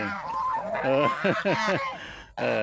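Loud geese honk repeatedly at close range, a series of harsh nasal calls with brief pauses, ending in one more burst of honking.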